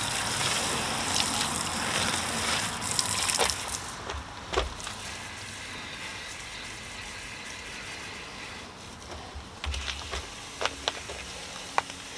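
Water from a hose or pressure rinse sprays steadily over a car tyre to wash off Gyeon tyre cleaner, a broad continuous gushing hiss with a few clicks and knocks, no talking.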